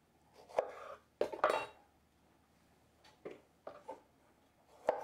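Tomatoes are chopped with a knife on a cutting board for a tomato vinaigrette, producing scattered sharp, close knocks in irregular bursts with quiet gaps between.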